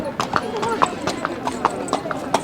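A horse's hooves clip-clop in a steady, even rhythm on Mall Road in Shimla, close and distinct, while a person talks over the sound.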